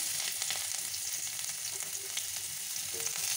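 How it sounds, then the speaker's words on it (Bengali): Sliced onions fry in the hot oil left over from frying nuts, giving a loud, steady, dense sizzle that runs unbroken throughout with faint stirring and no talk. "এই তেলেতেই পেঁয়াজ দিয়ে দেবো"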